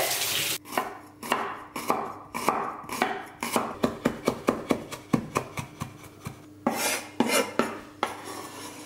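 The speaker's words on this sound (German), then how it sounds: "Ich habe den Ingwer vergessen, den muss ich noch fein würfeln" Organic ginger being finely diced with a knife on a cutting board, a run of quick, sharp, close chopping taps in irregular bursts, with brief pauses between them.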